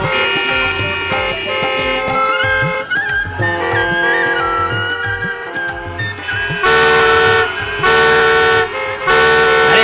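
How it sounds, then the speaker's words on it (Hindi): Car horns honk repeatedly and loudly in a busy stretch of traffic, with several overlapping toots in a steady, insistent pattern that grows louder toward the end. "तब से पॉपो करके हॉर्न मारते ही जा रहे हैं।"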